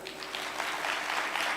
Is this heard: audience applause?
yes